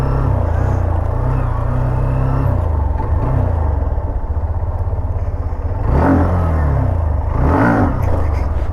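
A Yamaha R15 motorcycle engine idles loudly nearby, then revs up sharply twice in quick rising surges as it pulls a wheelie, with faint voices in the background.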